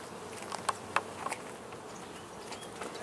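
Honeybees in a hive where they have been reattaching comb, heard as a soft, steady buzzing drone with a few brief louder passes from bees flying close by.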